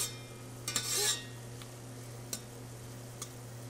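Onions stirred in a hot pan for a salmon and shrimp stir-fry: a faint, steady sizzle with a brief scraping burst early on and a few light utensil taps against the pan, no voices.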